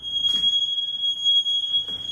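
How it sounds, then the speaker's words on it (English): A smoke alarm in a house gives a piercing continuous high-pitched tone. It is loud and sustained, with faint voices and movement briefly underneath. "Oh, the alarm went off."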